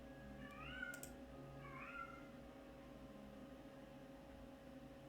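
Two plaintive cat meows come in quick succession near the start, clear but somewhat distant over a steady low electrical hum, then the room settles into quiet.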